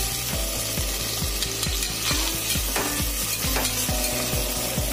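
Onions and tomatoes sautéing in a pan for chicken gravy, a continuous close sizzle under a steady rhythmic scraping of a spoon stirring around the pan, with no talking.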